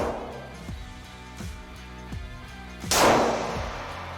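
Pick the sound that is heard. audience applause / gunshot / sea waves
gunshot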